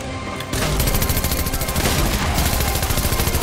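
Rapid, loud bursts of SMG fire in the video game Fortnite, dense overlapping shots rattling continuously after a brief quieter lead-in.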